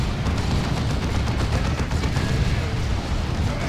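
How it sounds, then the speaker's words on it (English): Orbital bombardment in Warhammer 40,000: Dawn of War 2, a 3v3 match with Land Raiders on the field: dense, continuous rumbling blasts and booming explosions that fill the whole stretch, loud and unbroken. "Orbital bombardment thrown in by someone"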